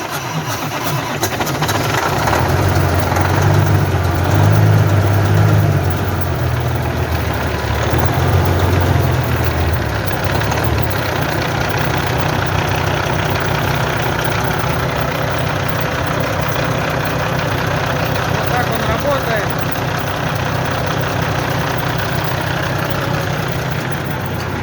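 A Kenworth T2000 truck's 600 hp diesel engine cranks and catches, then settles into a steady, loud, close idle that runs on without a break for the rest of the stretch, with no voices over it.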